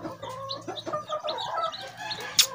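English Game chickens, a black chick among them, clucking and calling up close, with scattered short cackles and a brief sharp squawk near the end.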